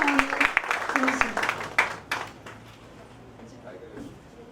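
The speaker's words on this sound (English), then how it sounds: "A huge round of applause" An audience claps at a formal education and innovation event. The applause is fairly loud at first and thins out over a few seconds, with some talk mixed in.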